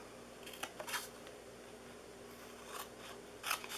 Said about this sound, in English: I like to use my bigger scissors than these little snips